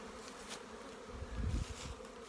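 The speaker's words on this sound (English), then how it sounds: "Look at the bees in there." Bees in an open beehive during a hive inspection give off a soft, steady buzzing hum, faint and continuous, with a slightly louder swell partway through.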